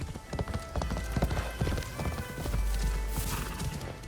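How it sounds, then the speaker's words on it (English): Hooves pound steadily as a horse gallops along a road in the video game Assassin's Creed Shadows, the clip-clop rhythm loud and continuous throughout. "Get on your horse and be prepared to ride for quite a long way."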